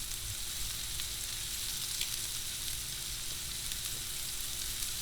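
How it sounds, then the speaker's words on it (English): Steady crackling sizzle of bacon frying on a hot Blackstone 22-inch griddle, continuous and close, with no talking. "You can hear the sizzle."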